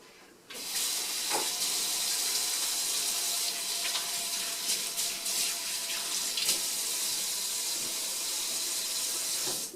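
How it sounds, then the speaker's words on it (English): A kitchen tap runs in a steady, close hiss of flowing water for several seconds while hands are washed before cooking, with faint splashes and no speech. "let me wash my hands and let's get started"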